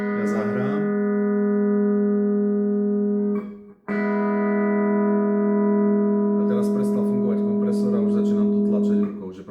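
Pedal steel guitar played through a compressor and hall delay, long sustained chords ringing out smoothly with one brief break before a new swell, then faint speech beneath the fading tone.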